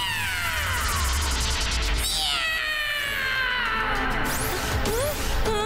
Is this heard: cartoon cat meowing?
yes